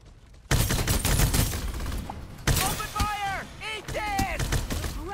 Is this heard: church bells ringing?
no